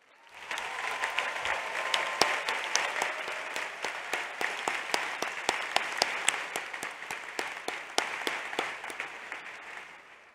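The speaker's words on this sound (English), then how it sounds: "let's give everyone in here another big round of applause" A large crowd applauds at an MBA graduation ceremony, a dense sustained wash of clapping with sharp individual claps standing out, rising quickly and fading near the end.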